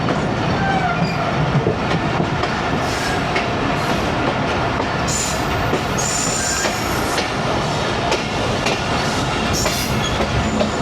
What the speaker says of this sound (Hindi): और गंबट रेलवे स्टेशन पहुंच रही है ट्रेन।